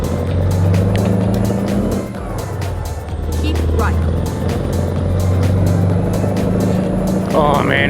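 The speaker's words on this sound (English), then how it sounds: "Oh man, does this truck sound good? Good old Freightliner." A Freightliner truck driving in American Truck Simulator gives a steady low engine drone with harmonic bands that rise and fall as it shifts. The drone runs the whole time, with a voice talking over it now and then.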